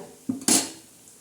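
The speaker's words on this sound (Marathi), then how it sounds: "आता या झिरड्याला उलटणार आहोत आपण" A besan dhirde pancake gets flipped on a griddle: two quick metallic scrapes and clacks of a spatula on the pan, the second louder with a brief bright rasp, then quiet.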